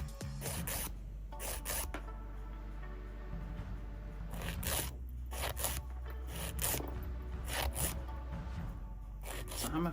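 Rapid scraping rasps of a nail file shaping the white tips of press-on nails, in short repeated bursts over a steady low background hum, close and fairly quiet.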